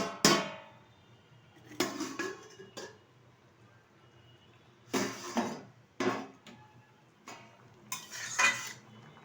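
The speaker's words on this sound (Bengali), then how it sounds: "ঢাকনাটা তুলে দিচ্ছি" A metal lid lifted off a cooking pot of rui fish curry with potato and eggplant, giving several sharp clanks and scrapes spread over the span, close and clear, with quiet pauses between and no talk.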